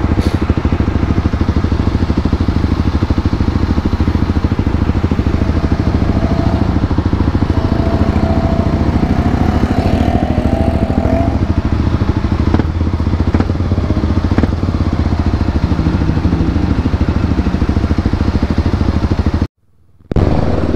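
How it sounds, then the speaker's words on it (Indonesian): A motorcycle fitted with a racing exhaust gives a loud, continuous raspy engine roar for about twenty seconds, close by, cutting out abruptly for a moment near the end. "beginilah nasib kalau pakai motor knalpot racing"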